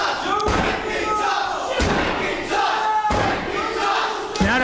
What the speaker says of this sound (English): Crazy Ivan trying to quiet down this crowd.